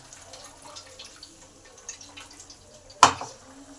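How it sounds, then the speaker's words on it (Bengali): Water is added to a pan of cooked-down tomato masala for a rohu fish curry with potato and cauliflower, a low faint trickle capped by one sharp splash near the end. "এবার বেশি করে কিছুটা জল দিয়ে দিলাম।"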